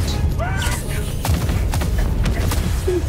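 Bombs go off repeatedly in the Helldivers 2 video game, giving a dense, busy stretch of booming blasts and crackling impacts layered over steady low rumble, with no speech.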